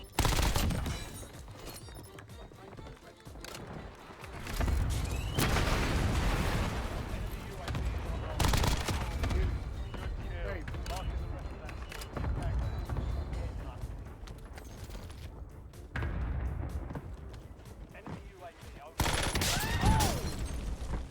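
A Warzone gunfight breaks out one floor above: repeated bursts of automatic fire, muffled and a little distant, come in waves under a player's talking.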